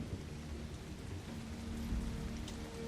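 Heavy rain pours steadily with a low thunder rumble through a dark, stormy scene in the 1999 movie Komodo, a dense continuous roar with no voices.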